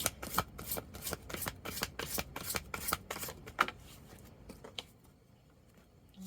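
Tarot cards shuffled by hand, with a quick run of crisp riffling flutters close by that thins out and stops toward the end.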